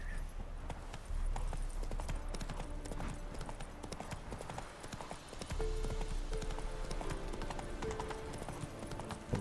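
Hooves of Roach, the horse in the game The Witcher 3, thud in a steady galloping clip-clop that runs the whole way through, loud and near, over a low rumbling game backdrop.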